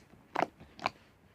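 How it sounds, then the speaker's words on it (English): Sticky slime is poked twice, each poke giving a short, close, wet crackling squish about half a second apart, with near silence around them. "The best I like from the slime is the poking."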